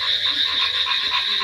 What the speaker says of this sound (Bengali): তত এদের ডাকও বাড়ছে